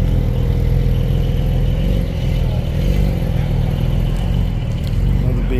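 Second-generation Chevrolet Camaro Z28 V8 at a cars-and-coffee meet, giving a steady, loud low rumble that holds close by for the whole stretch, with other cars idling in the background.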